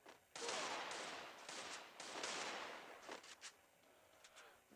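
Rapid bursts of gunfire from the Free Fire video game, dense continuous volleys for several seconds that thin into a few scattered shots, loud and close.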